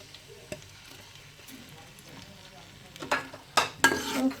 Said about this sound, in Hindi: ये प्याज को ब्राउन नहीं करना, इसको सोते करना है